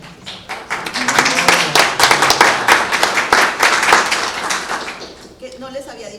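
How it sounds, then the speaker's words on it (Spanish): Applause from an audience at a Spanish-language talk on finance and economic sovereignty, a sparse mix of individual claps at moderate distance that thins and fades out, with voices talking beneath and a speaker resuming at the end. "Un aplauso"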